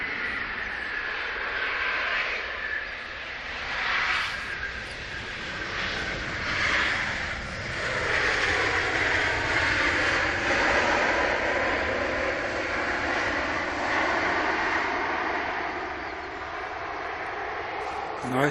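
An airplane arriving at Manchester International Airport gives a rising and falling jet roar with shifting whooshing tones, sustained and fairly distant, while people talk over it.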